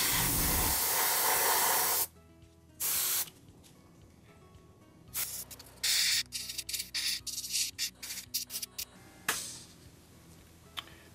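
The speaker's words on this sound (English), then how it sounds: "I'm gonna spray that piece just neat in that" Short bursts of airbrush spray hiss as AK Dunkelgelb paint goes onto a 3D-printed model part, starting with one long blast and then many quick puffs in a stop-start rhythm, close up with no talking.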